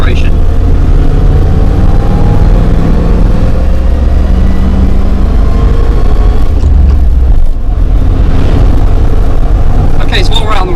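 An Arkonik Defender 90 pulls away with gentle acceleration, its engine a loud, steady rumble heard from inside the cabin while someone talks over it.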